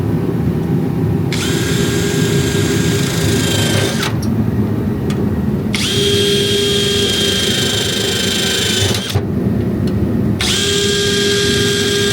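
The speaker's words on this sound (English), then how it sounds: "And then go through with a spot weld removal tool." A spot weld removal tool drilling out welds on a car body panel of a 350Z drift build, three loud whining bursts of several seconds each, close and steady with brief pauses between, no talk.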